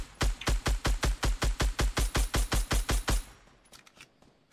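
Gunfire in the Fortnite video game, with about fifteen evenly spaced heavy shots in a steady rhythm, loud and close, followed by quieter faint noises.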